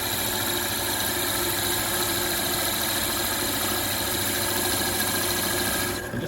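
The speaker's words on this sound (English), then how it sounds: "You have to give the machine time to work its way through that wood." A drilling machine bores slowly through wood, giving a loud, steady droning whine with a constant grinding texture that runs nearly unbroken before cutting off at the very end, no speech.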